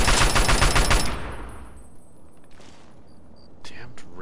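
Raiders open up with assault rifles in Fallout 3, a loud, dense rattle of rapid automatic fire lasting about a second. Only sparse faint clicks and a couple of light thumps follow.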